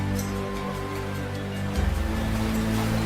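Rushing current of the Alas River near Gurah in Gunung Leuser National Park, known for its fierce rapids; a steady, loud broadband roar of churning water that thickens with a deeper surge partway through, with no voices.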